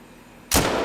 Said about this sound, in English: I just shot a dang tree.